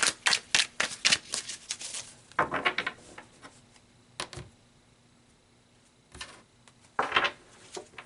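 Tarot cards being shuffled close up, with quick riffling flutters and soft slaps in several bursts separated by quiet pauses.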